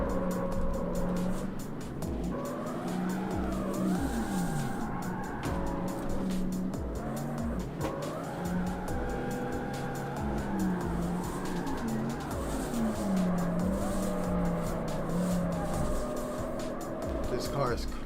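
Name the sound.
car drifting with tire squeal in CarX Street video game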